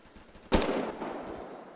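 Semi-automatic gunfire in the Roblox game Phantom Forces: one sudden loud report followed by a long, noisy decaying tail of echo and rumble.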